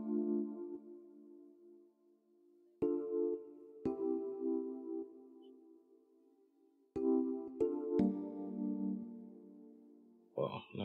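Chord progression played on a keyboard-style synth patch from the Expand plugin, in an Afro-piano beat: sustained chords that re-strike several times, swelling and fading, with a brighter flurry of notes at the very end.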